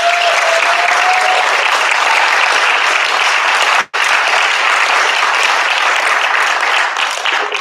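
Sustained applause from the audience at a school board meeting, dense and even, with one brief break midway before it resumes at the same strength.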